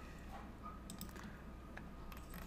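Keys tapped on a computer keyboard to enter a shortcut in Revit software, a few faint, quick clicks in a quiet room.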